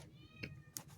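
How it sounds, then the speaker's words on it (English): A kitten meows faintly behind a shut door, two short plaintive calls over a low background hum. "you probably hear my kitten being annoying in the background"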